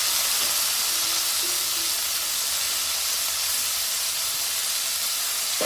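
Cut flat beans fry in hot spiced oil, giving a loud, continuous broadband hiss and sizzle that stays steady and close throughout, with no voices.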